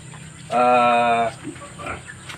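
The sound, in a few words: pigs being bathed on a farm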